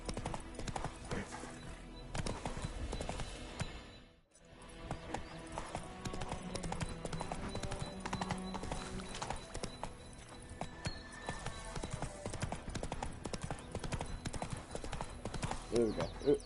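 Clip-clop hoofbeats of Roach, the horse in The Witcher 3, trot steadily and close throughout, with an occasional whinny and a voice talking over the game audio.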